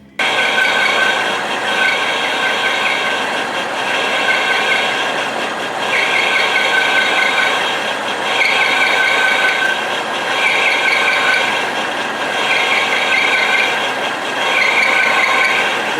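A 1-inch bit cuts a metal pass on an Oliver 25A wood lathe, giving a loud, steady mechanical grinding and ratcheting whir with a regular pulsing rhythm about every two seconds, heard alone.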